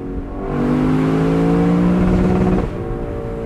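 A 2022 Lexus LC 500 Convertible's V8 revs up, holds a high droning note for about two seconds, then drops off sharply, loud and close with no talking.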